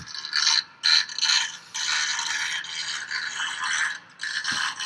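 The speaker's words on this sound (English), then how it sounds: "sorry for that noise, they're landscaping outside" Landscaping work drones and rattles outside, a raspy mechanical scraping that comes in uneven bursts with short gaps, moderately loud and steady.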